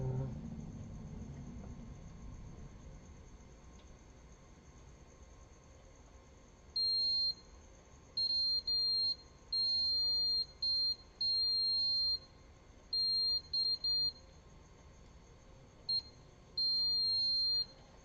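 Multimeter continuity tester on a lab bench giving a series of thin, high electronic beeps, some short and some sustained, in an irregular pattern over a quiet background hum.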